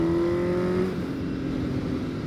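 Motorcycle engine revving as the clutch is popped to lift the front wheel, a steady loud drone that climbs and then settles, close by with no talk.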